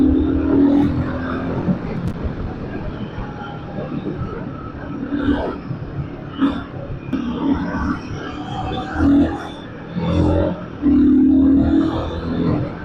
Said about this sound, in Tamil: இதாங்க சென்னையில் நார்மலாக இருக்கும் டிராஃபிக்.